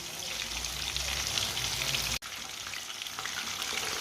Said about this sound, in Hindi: ये वाली साइड से भी 3 मिनट के लिए फ्राई होने देते हैं।